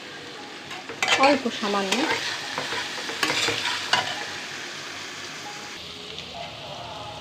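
Food frying in a pan seasoned with salt and turmeric, a loud hiss and crackle with busy stirring scrapes that swell and fade, while a brief voice speaks over it.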